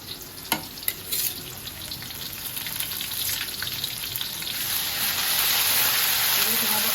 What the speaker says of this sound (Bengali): ভাজা হয়ে এই যে আমার আদা রসুনটাও পেঁয়াজের সাথে সাথে ভাজা ভাজা হয়ে গেছে